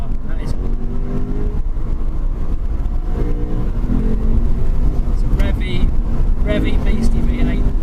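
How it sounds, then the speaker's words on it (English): A 2017 Lexus RC F with a high-revving V8 drives along, its engine holding a loud, steady drone that rises in pitch as it revs, mixed with road and wind noise. Someone talks over it. "Love the sound of that motor."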